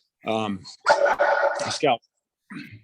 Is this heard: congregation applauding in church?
no